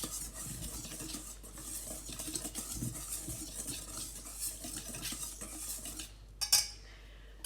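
A spoon stirs sugar and vanilla sugar into donut batter in a bowl, a continuous soft scraping and swishing, close and quiet, ending with a couple of sharper clinks of utensil on the bowl.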